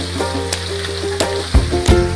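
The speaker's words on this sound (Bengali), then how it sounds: "ছোট মাছগুলো ভাজা হচ্ছে" Close, loud sizzling of small fish, including lote (Bombay duck), frying in oil, with several sharp pops and clatters against the pan, no talking.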